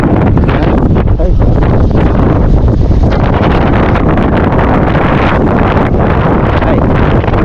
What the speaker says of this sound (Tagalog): Meron na may kasagsagan ng lakas ng hangin.